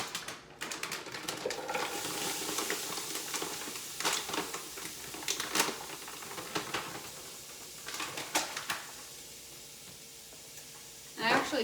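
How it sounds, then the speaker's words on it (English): Vegan sausage crumbles sizzling and crackling in hot oil in a pan, with a continuous hiss broken by sharp pops and clatters of utensils, a voice speaking over it. "Looks like our oil's hot. I'm just gonna open this packet and dump in all of these sausage crumbles."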